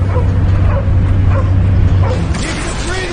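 Cosmo, a dog in the Guardians of the Galaxy video game, yips and whimpers in short bursts over a steady low game hum, with a voice briefly heard during the commotion.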